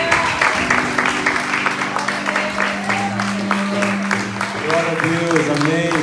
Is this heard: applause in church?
yes